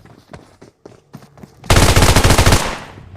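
A quick burst of automatic gunfire from the mobile battle royale game BGMI, loud and rapid, follows a few scattered single shots and taps.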